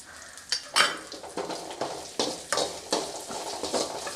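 Curry leaves, dried red chillies and crushed garlic sautéing in a hot pan, a steady close sizzle with repeated scraping strokes of a spoon against the metal, no talking.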